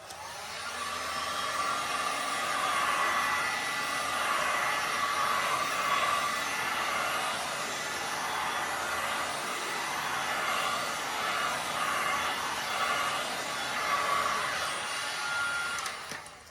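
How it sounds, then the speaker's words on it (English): A heat gun blows hot air in a steady, continuous whoosh close by, holding an even level for the whole stretch with no talking. "I'm just going to heat it first with the heat gun"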